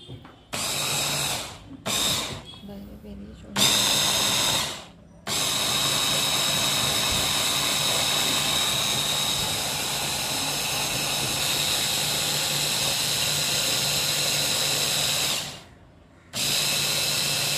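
An electric chopper blending semolina with water whirs in loud, steady bursts, starting and stopping several times before a long continuous run, then a brief pause and restart.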